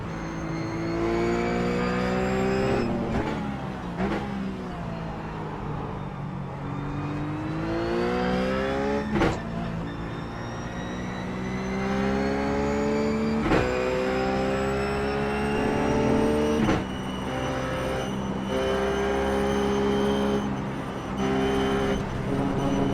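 Ruf GT3 race car in iRacing at Phillip Island, a continuous loud engine wail climbing through gears with sharp upshift breaks and drops in pitch under braking, with no talk over it.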